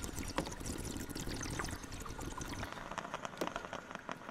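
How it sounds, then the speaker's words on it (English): Coffee creamer poured into a cup of coffee, a steady liquid trickle and splash lasting a few seconds, close by with light handling noise. "Just a little bit of coffee creamer."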